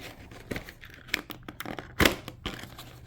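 A thoroughly taped G.I. Joe Classified Series Rock 'n' Roll action figure box is cut and torn open: a few sharp rips and crinkly tearing bursts, one loud tear near the middle, close up with no talking.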